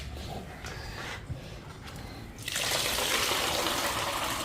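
Water gushes and splashes as soaked ingredients are rinsed for traditional thattai vadai, quieter handling noise at first, then a steady loud pour of water filling over them.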